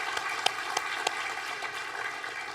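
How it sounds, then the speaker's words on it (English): A crowd applauds steadily, a dense patter of many hands clapping at a moderate distance, with a few sharper claps standing out. "a round of applause for our delegations"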